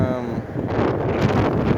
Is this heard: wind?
yes